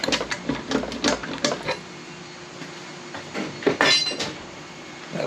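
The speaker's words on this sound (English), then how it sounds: "I'll grab a pry bar." A pry bar works a loose intake manifold free from a 1970 Ford Falcon engine block, giving a run of close, uneven metallic scrapes, clinks and knocks with brief pauses between bursts.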